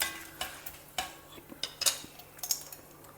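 Peanuts and dry red chillies being lightly roasted in a pan, with a spoon clinking and scraping in quick irregular taps over a faint background hiss, close and quiet with no voices.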